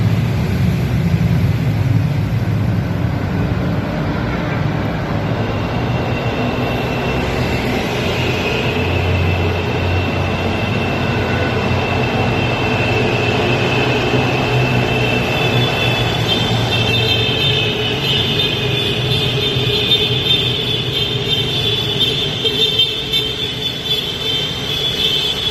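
Vehicles passing through the Kaybiang Tunnel, a continuous loud engine and road rumble echoing in the enclosed space, with tones rising and falling as traffic moves by.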